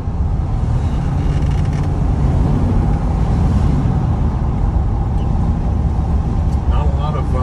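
A 1972 Ford F-250 truck drives along with a steady, loud engine drone and road rumble, while someone talks over the noise.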